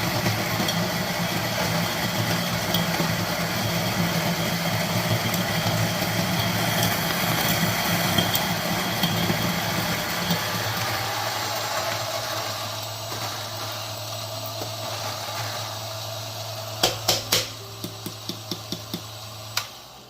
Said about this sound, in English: I think I'll make it on 18. Yeah, on the same grinder.